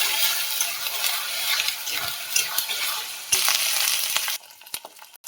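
Onion paste and tomato fry in oil already used for frying fish, giving a steady hissing sizzle broken by spatula scrapes and knocks; the sizzle drops sharply near the end.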